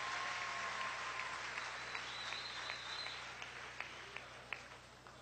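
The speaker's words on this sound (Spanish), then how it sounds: "un aplauso a Escalona por este logro del sonido" Faint applause from a gathering of communes and community councils, a thin spread of clapping with a few sharper individual claps near the end, heard at a distance over a low background hum.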